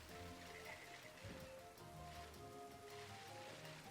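Rain in Pokémon Sword, a steady, faint patter of falling drops layered under soft game music, with no talking.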